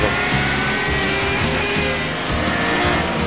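Race cars at the Mid-Ohio circuit, several engines roaring together at high revs with shifting pitch, loud and continuous as the pack drives past close by.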